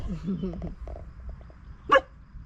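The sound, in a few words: dog barking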